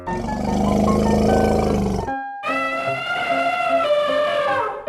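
An elephant call from a 3D animal slide video game blares loud and close, a rough burst that breaks after a short gap into a long, bright trumpeting tone.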